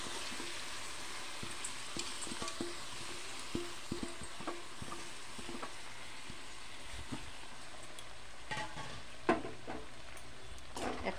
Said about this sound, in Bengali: পোলাওর জন্য চালটা দিয়ে দেবো, ভিজিয়ে রেখেছিলাম 20-25 মিনিট